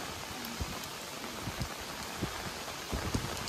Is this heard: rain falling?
yes